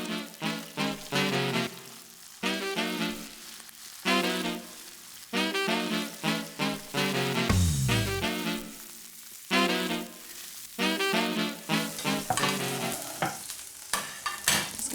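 Fish fillets frying skin-side down in a hot pan, a steady crackling sizzle that swells and fades in rhythmic pulses as the pan is moved and the fillets are stirred, with no talking.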